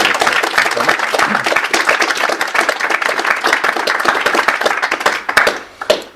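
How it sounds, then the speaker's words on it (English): A small audience at a book talk claps together in a steady, dense round of applause that fills the whole stretch and starts to thin out near the end. "Round of applause for Colin."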